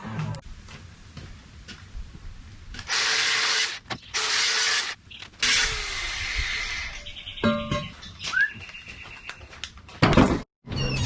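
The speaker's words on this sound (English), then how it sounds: "I may have to just wire brush where that post is going to sit against that beam, because I've zinc painted it" A wire brush scrubs a zinc-painted steel beam where a post will sit, in several loud, scratchy bursts of a second or two, separated by quieter pauses and small clicks.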